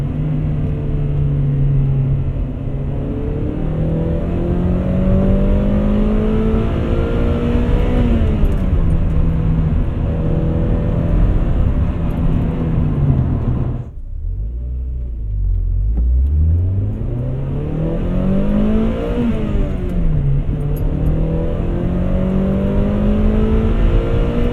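A 2000 Honda Prelude accelerates hard on a rough patch of pavement, its engine loud and close, revving up through the gears with a brief drop during a shift before climbing again.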